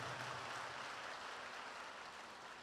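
A church congregation claps together, a dense steady wash of applause held at even volume throughout, with no voices over it.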